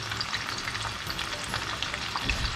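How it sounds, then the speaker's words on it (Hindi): Spicy orange chicken frying on medium heat, a dense, steady sizzle and crackle of oil with the soft scrape of stirring, close and continuous with no talk. "मीडियम हीट रखनी है। स्पाइसी ऑरेंज चिकन बन रहा है"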